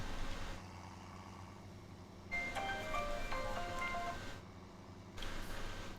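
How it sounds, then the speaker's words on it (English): A melodic alarm clock chime plays faintly in two short bursts of quick tonal beeps over a low background hum. "That was my alarm on the clock."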